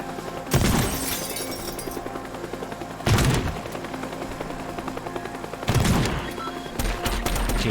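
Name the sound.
helicopter firing rockets and guns in Teardown video game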